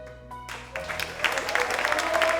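Applause swells from a quiet start into steady clapping from a television singing show audience, with music playing underneath.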